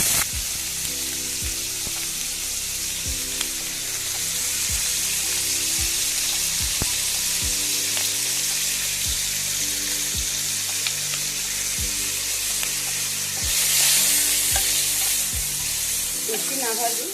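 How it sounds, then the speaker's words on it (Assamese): Pointed gourd and potatoes fry in a pan with paneer nearby. A steady sizzling hiss runs under repeated sharp utensil clicks and stirring taps, and a brief surge of sizzle comes near the end. "বেছি নাভাজি অলপমান ভাজিম।"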